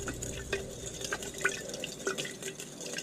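Bearings are agitated in a small container of cleaning liquid to loosen grease, giving faint, quiet sloshing with light drips and clicks at an irregular pace.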